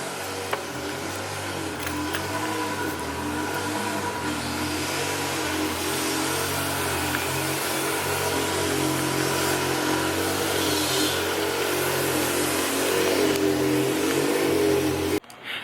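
A K24-swapped Honda Civic street car revs hard on a dyno, its engine a loud, sustained drone that builds steadily in pitch and intensity before cutting off abruptly at the end.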